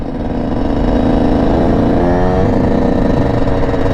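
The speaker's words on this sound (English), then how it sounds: "We got two quads coming in." Two Suzuki quads ride in at an outdoor lot, their engines droning loud and steady throughout, with a continuous buzzing rumble and slight rises in pitch as they approach.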